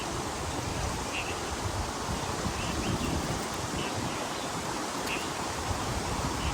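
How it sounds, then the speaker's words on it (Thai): Wind rushes through deep forest near a waterfall as a steady, broad hiss and roar, continuous and fairly even in level, with no voices. "โหทุกคนครับลมเย็นมากๆเลยตอนนี้"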